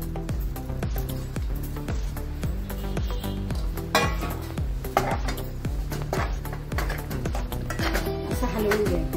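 Sorghum flour being stirred into boiling water in a pot on a gas stove: repeated metallic scraping and clinking of a utensil against the pot in a steady rhythm, loud and close.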